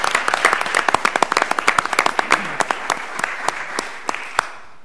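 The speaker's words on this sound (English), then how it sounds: "Again, let's give him a round of applause." Applause from a county commissioners' board meeting audience, a dense clatter of many hands with sharper individual claps standing out, steady for several seconds before thinning and fading at the end.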